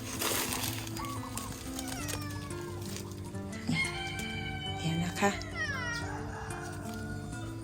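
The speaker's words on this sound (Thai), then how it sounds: "อะไรเหมียว ร้องทำไม" A cat meows repeatedly in a rural outdoor setting while someone speaks nearby. The cries are moderately loud and drawn out, and a rooster or fowl calls in the background.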